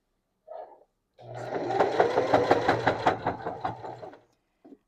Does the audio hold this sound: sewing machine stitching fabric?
yes